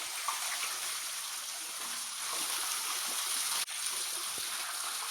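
Water trickles and streams steadily from a holey bucket out on the Canning Stock Route, a continuous close splashing dribble with one brief dip partway through.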